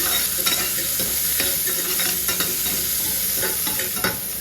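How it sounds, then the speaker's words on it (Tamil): Onions sautéing in hot oil in a kadai, the same oil just used to fry curry leaves for a Madurai-style mutton curry: a loud, dense, continuous sizzle with light stirring clatter throughout, no talking. "அதே கடாயை வச்சு அந்த எண்ணெயிலே வெங்காயத்தை போட்டு வதக்கி"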